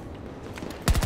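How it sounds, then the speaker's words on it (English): Burst of automatic gunfire from another player in the video game Battlefield 2042, a short loud rapid volley arriving abruptly after a stretch of low background ambience. "There's a player shooting at me, I think."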